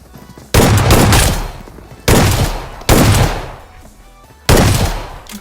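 Shotgun blasts in the mobile battle game BGMI, four loud, close booms spaced unevenly, each decaying into a rumbling tail.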